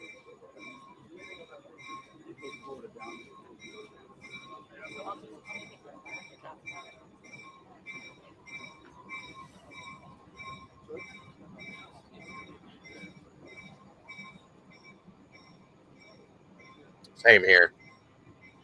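A train passing at a distance, with a faint continuous rumble under people talking, a sustained whistle-like tone throughout, and a loud brief screech of wheels near the end.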